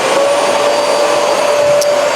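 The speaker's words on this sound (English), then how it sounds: "go ahead and use it like a regular vacuum" A Shark Navigator Lift-Away DLX upright vacuum cleaner runs loud and close with a steady, even motor roar and a high thin whine, holding constant throughout without talk.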